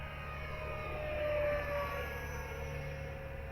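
An FMS Futura 64mm electric ducted-fan RC jet flies at about half throttle, giving a steady, moderately distant whine that swells slightly as it passes and then holds an even drone, with no talking.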